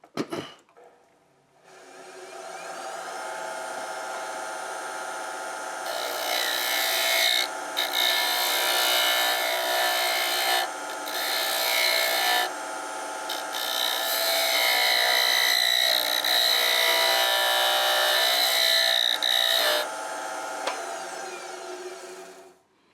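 A lathe spins wood while a carbide turning tool cuts into it, making a loud, continuous whirring scrape for about twenty seconds with short dips as the cut eases, close up and without voices.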